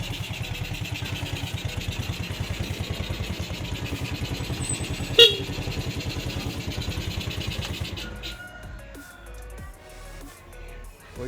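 A Yamaha Jupiter Z motorcycle, a used bike in ready-to-ride condition, runs with a steady, close, pulsing engine rhythm. Near the middle comes a short sharp click, and toward the end the engine note drops away as it settles.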